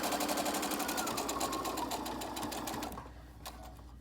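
A sewing machine stitches a three-layer fabric pocket mask in a steady, fast, close run that stops near the end, leaving a brief quieter tail.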